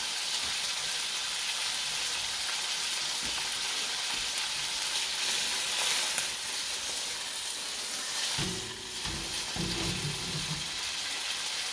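Chicken and onions stir-frying in a pan on a gas stove give a steady, close sizzle throughout, with a few brief clanks of a utensil stirring near the end.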